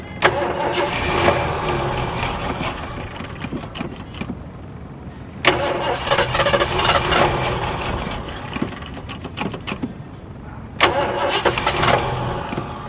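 A 1974 Ford Ranchero 500 engine cranks and catches three times, each start followed by a rough, uneven run, loud and close with no talk over it.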